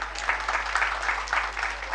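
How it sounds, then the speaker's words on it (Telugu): An audience at a Telugu spiritual gathering claps in a brief, fairly faint burst of scattered applause, steady for a couple of seconds over a low background hum. "మరొకసారి గట్టిగా చప్పట్లు కొట్టాలి"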